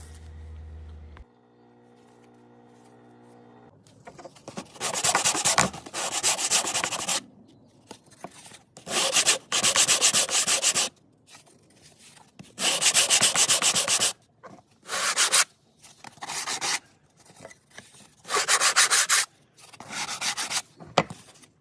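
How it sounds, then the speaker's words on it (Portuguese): A wooden piece for a Chevrolet D20 pickup's truck bed is sanded in repeated loud, close rasping strokes of a second or two each, separated by short pauses, after a quiet start with no talking. "é importante que você vai na lixadeira aí, ó, e acerta, né?"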